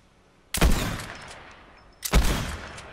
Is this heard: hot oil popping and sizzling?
no